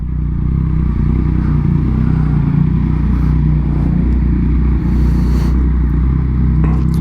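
A 2021 Yamaha MT-09 motorcycle rides along with a steady, loud, close engine drone and rumble, with wind and road clatter and no talking.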